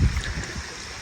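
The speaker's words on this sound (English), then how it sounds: "The creek is pretty high right now, but it's clear and flowing" A creek running high but clear after heavy thunderstorms gurgles and trickles nearby, a short burst of steady flowing water with no talk.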